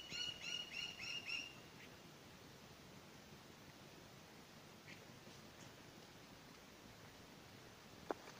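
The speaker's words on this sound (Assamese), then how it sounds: "টিপ টপ টুপ টুপকৈ বৰষুণৰ টোপাল পৰি আছে আৰু তাৰোপৰি চৰাইৰ মাত" Brief bird chirps ring out in a quiet mountain setting near Sela Pass, a quick series of calls at the start followed by faint hiss and a single sharp drop-like tick later.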